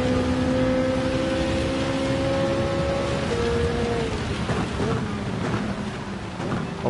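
Steady rain pours during a Gran Turismo 7 race, a dense continuous hiss with tonal engine hum fading underneath; no voices.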